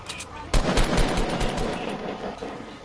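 Rapid gunfire in a video game crackles in a dense string of shots, a pistol among them, loud and close, with a steady clatter of other guns behind.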